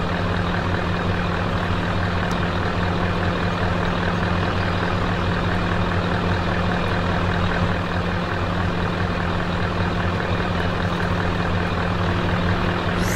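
A truck engine in the video game Farming Simulator 2015 drones loudly and steadily with a constant low rumble and no break, heard alone without talk.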